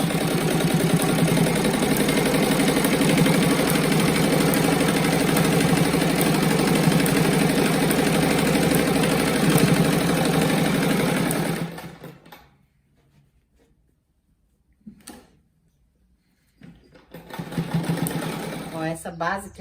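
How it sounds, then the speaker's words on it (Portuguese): A sewing machine stitches two patchwork fabric strips together for a rag rug, running in a loud, steady whir for about twelve seconds, falling silent, then starting up again near the end. "Agora eu passo uma costura aqui para unir as 2 faixas."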